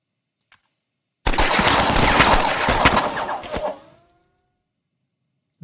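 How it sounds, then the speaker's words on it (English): Assault fire in the Lock 'n Load Tactical game: a loud, dense burst of rapid gunfire lasting under three seconds, close and alone, then cutting to silence. "So I will now fire assault fire"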